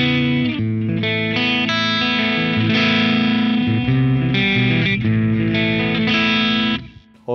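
An electric guitar runs through the clean channel of a Two Notes Opus with the gain set high, giving loud, sustained chords with a gritty breakup and a shimmering effect that ring continuously until a brief drop near the end.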